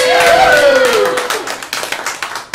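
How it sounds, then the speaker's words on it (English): A small crowd at a comedy open-mic night claps for a volunteer named Amadeus, a brief burst that thins to scattered individual claps, with voices and a cheer overlapping at the start. "Round of applause, Amadeus."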